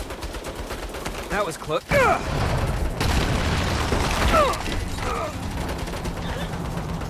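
Automated turrets open fire in Saints Row, loud sustained bursts and booming gunfire with mechanical clatter, while someone shouts briefly over the shooting.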